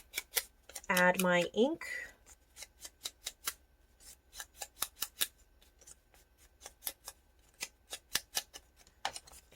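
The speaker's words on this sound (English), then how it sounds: "I'm actually just going to trim the top of that masking tape off, so I just have a rectangle." Scissors trimming the top off a strip of masking tape for a botanical paper tag, a long run of crisp, close snips in an uneven rhythm, with a brief bit of speech near the start.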